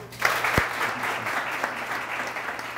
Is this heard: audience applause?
yes